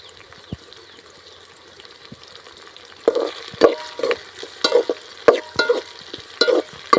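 Chilli and curry leaves fry in hot oil for a Sankara fish kulambu, a soft sizzle that turns busier after a few seconds as a spoon stirs them, knocking against the pan in a loose, repeated rhythm.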